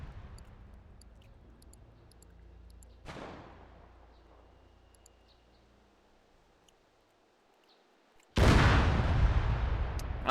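Anti-tank rocket launcher fired during grenadier training, a sharp blast near three seconds with a decaying rumble, then a second loud, sustained roar from about eight seconds to the end, outdoors with no talk.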